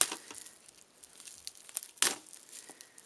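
A package is snipped and torn open up close, with irregular crinkling and rustling of packaging and a sharper tearing burst partway through.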